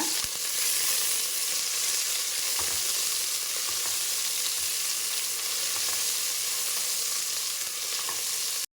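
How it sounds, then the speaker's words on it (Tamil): Green chillies sautéing in a pan with onions for tomato rice, a constant loud sizzle with faint stirring taps throughout, with no voice. "இப்போ பச்சை மிளகா போட்டுக்கலாம் இதை நல்லா வணக்கிக்கோங்க"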